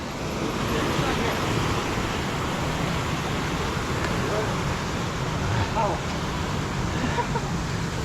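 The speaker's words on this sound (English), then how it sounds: "A little waterfall for you." Small waterfall on a fatbike trail, a steady broadband rush of falling water holding even and close for the whole stretch, with no talk over it.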